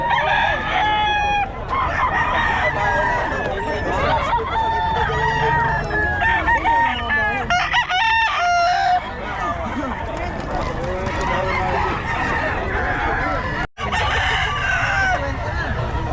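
Several Hatch Gray gamefowl roosters crow repeatedly at a gamefowl sale, loud and overlapping with clucking, while people talk continuously throughout.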